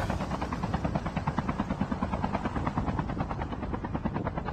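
A helicopter in Call of Duty Mobile drones steadily with rapid, even rotor chop, loud and close throughout, alone with no talk over it.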